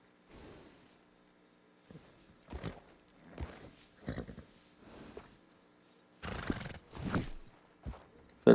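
Horses in Red Dead Redemption 2, including the Florentina and a Hungarian half-bred, give a neigh and a snort among scattered hoof clops and footsteps, a few separate bursts over a quiet background with no talk.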